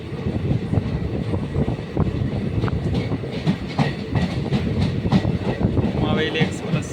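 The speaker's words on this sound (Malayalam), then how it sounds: "ഈ പോണത് നമ്മുടെ മംഗലാപുരം തിരുവനന്തപുരം മാവേലി എക്സ്പ്രസ് ആണ്." Maveli Express train on the Mangalore–Thiruvananthapuram route passing close while changing tracks, with continuous rumbling and rhythmic clickety-clack of wheels over rail joints, a faint squeal near the end and someone talking.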